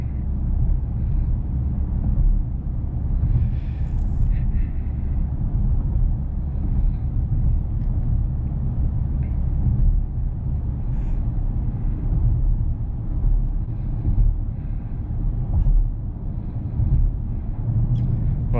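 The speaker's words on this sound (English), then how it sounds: "I don't know if you can hear the engine. It sounds nice." Porsche Cayenne S E-Hybrid engine under way, a steady low rumble heard from inside the cabin along with road noise, droning continuously throughout.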